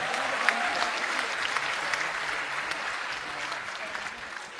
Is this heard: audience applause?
yes